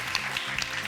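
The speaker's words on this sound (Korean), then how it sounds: "다시 한번 뜨거운 박수 부탁을 드리겠습니다" A brief stretch of audience applause after a lecture, steady and moderately loud clapping with no talking.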